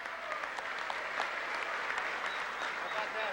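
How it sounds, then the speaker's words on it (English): Audience applause fills a formal awards ceremony, the 1979 College Football Hall of Fame dinner at the Waldorf Astoria, as a steady dense clapping that carries evenly through the whole stretch. "we have to cut off the applause someplace or we'll be here all night"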